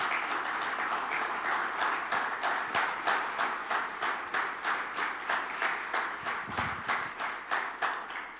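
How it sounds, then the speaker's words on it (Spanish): Church congregation clapping in a steady rhythmic beat, roughly three claps per second in unison, sustained and fairly even, with a brief low thump partway through. "Dale un aplauso al Señor entonces."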